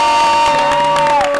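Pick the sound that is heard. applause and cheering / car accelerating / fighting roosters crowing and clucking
applause and cheering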